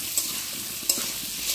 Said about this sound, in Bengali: এগুলো দিয়ে একটু নাড়াচাড়া করে ভেজে নিয়ে ভালো করে